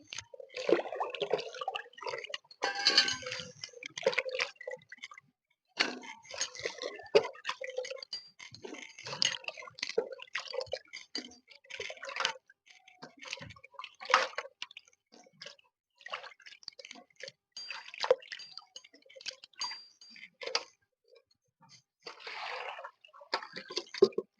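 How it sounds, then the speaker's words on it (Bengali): Kohlrabi leaves are rinsed in a little water in a colander bowl: close, intermittent splashes, drips and wet squishing handling sounds with short pauses, no talking. "জলটা একটু কমিয়ে দিলাম বা অল্প জলে পাতাগুলো ধুয়ে নেবো"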